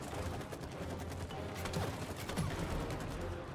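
Dense, continuous gunfire from a video game fills the whole stretch as a steady rattling din, with faint game effects mixed in and no clear voices.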